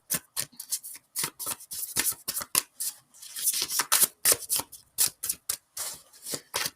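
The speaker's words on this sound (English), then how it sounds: "While I am shuffling Georgette's cards" Tarot cards being shuffled by hand, close up, with crisp bursts of riffling and slapping in quick irregular clusters separated by short pauses.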